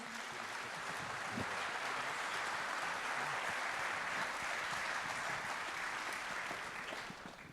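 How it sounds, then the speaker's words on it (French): Steady applause from a sizable audience at a business awards ceremony, dense and sustained clapping that tapers off slightly at the end. "On peut vous applaudir."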